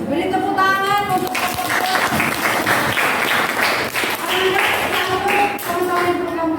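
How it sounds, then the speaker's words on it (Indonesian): A small group claps in a classroom setting after a chemistry practical, brief scattered applause mixed with children's voices and talk. "Beri tepuk tangan untuk"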